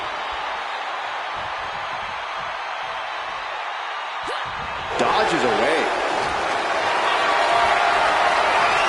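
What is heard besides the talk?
crowd cheering in WWE 2K25 video game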